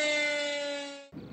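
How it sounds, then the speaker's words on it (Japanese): A flood-fighting crew's dispatch siren at a flood-defence drill on the Tone River, Fukaya, Saitama, Japan: a loud, steady wail holds for about a second, then cuts off abruptly into a burst of rougher noise. "水防団出動の合図であるサイレン"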